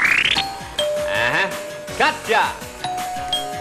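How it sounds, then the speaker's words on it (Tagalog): Game-show doorbell buzzers are tested in a television studio, ringing a rapid series of bright electronic ding-dong chimes, close and loud, amid a person shouting and cheerful studio chatter. "Okay, gumagana ating mga doorbell."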